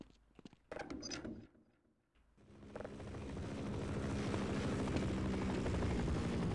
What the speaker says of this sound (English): That helicopter is just materializing out of thin air.